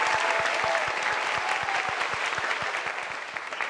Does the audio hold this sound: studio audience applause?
yes